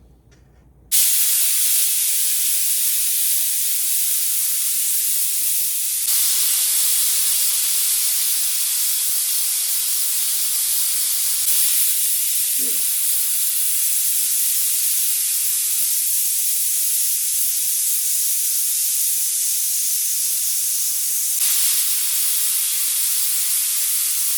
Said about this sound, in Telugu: సో ఒక 4 to 5 విజిల్స్ పెట్టానండి.